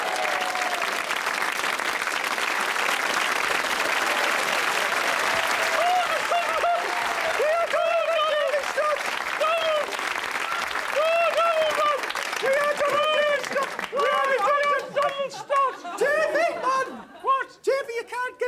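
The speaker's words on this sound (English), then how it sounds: "a big round of applause for Donald and Davy Stott." A studio audience claps in a loud, steady burst of applause that runs for several seconds, then thins into scattered claps with chuckles, chatter and voices coming through underneath.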